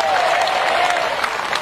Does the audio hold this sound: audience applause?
yes